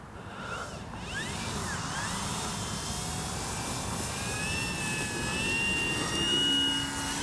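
A P-51D warbird RC model plane's engine roars steadily on takeoff, a loud sustained drone that builds slightly as the whining pitch rises and shifts.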